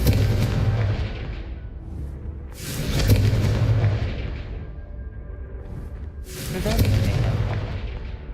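Explosions from the Confringo spell in the Hogwarts Legacy game, three loud booming blasts a few seconds apart, each swelling and then rumbling away.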